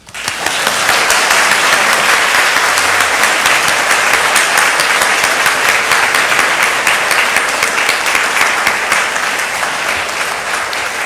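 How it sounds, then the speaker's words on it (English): A congregation at a flower communion service breaks into sustained applause, a dense, steady wash of many hands clapping at full volume for about ten seconds after a short onset, with no speech over it. "So now is the clapping."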